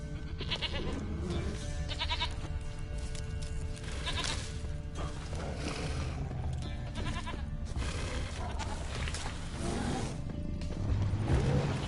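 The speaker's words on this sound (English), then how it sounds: "Here, goat." A goat in The Witcher 3 bleats several times amid a busy game soundscape with ambient music and effects, the bleats moderately loud against the mix.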